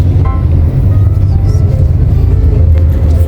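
A car rolls through traffic with a constant loud low rumble of engine and road noise close by, faint higher sounds from the street drifting in, and no clear talking.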